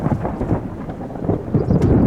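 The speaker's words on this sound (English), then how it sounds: "Some of my favorite thunder" Deep rumbling thunder from an intensifying supercell thunderstorm, a loud continuous low roll with rain hissing underneath and no voices.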